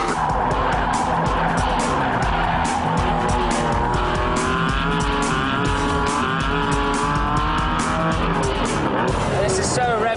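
The T440R supercar prototype is driven hard around a racetrack, its deep engine roaring loud and close without a break, with tire squeal and skidding mixed in throughout.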